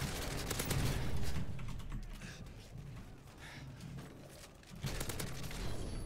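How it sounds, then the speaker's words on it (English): Two flashbang grenades in Modern Warfare 2 go off amid a rapid crackle of gunfire. A sharp burst hits early, loud noise tails off in the middle, and a second bang lands near the end. "Double flashbangs."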